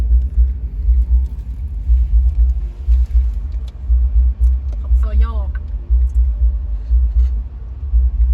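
A pickup truck engine rumbles steadily and loud throughout, a low continuous drone with a brief higher whine midway, while people talk nearby.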